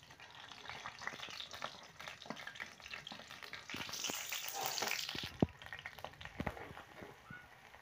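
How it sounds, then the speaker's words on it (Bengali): Onions fry in oil with a soft, constant sizzle and occasional sharp clicks of a utensil. The sizzle swells briefly midway and stays fairly quiet and close, with no talking. "পেঁয়াজটা লাল লাল করে ভেজে দিন।"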